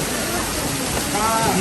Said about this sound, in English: this is, I think, the tallest waterfall in the garden over here